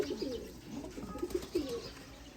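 Indian Padre breed pigeons coo softly at close range, a few low rolling calls in quick succession over faint background hiss.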